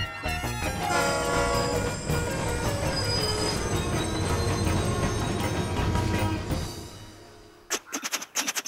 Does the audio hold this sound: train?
yes